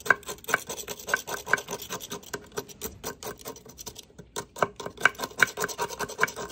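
A butter knife scrapes over coastal mussel shells in quick, repeated gritty strokes, close up and steady, with small clicks as the blade catches the shell.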